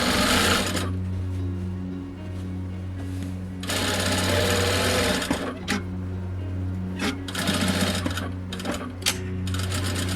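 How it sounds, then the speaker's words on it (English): A sewing machine stitches apron fabric with a loud, steady motor hum and rapid needle chatter, pausing briefly at the turns before running on. "follow along the edge of the fabric, and just sew around the pattern piece to hold it into place."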